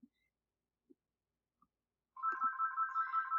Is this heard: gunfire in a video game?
no